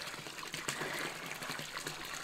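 Water trickles in a soft, continuous hissing flow, faint and steady with small splashy flickers, and no voices.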